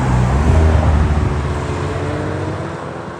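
A new Aston Martin Vantage supercar drives past at a supercar event, a loud, close engine note with strong low rumble that fades steadily as the car moves away.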